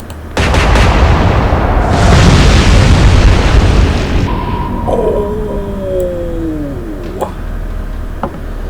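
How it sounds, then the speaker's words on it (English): Battleship Rodney's 16-inch guns fire in a naval warfare video game, bursting into a loud, sustained blast with a deep rumble that slowly fades, followed by sliding tones and a couple of sharp pops. "U-274 has been sunk by Rodney's 16-inch guns."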